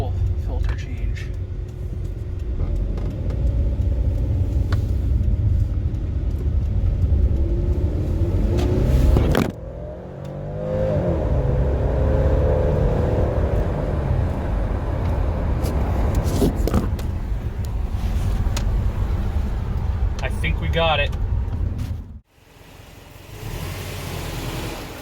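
A turbocharged JDM Subaru Forester SG accelerates along a main road, its engine rumbling steadily from inside the cabin, with a brief drop in the noise midway and a sharp cut near the end.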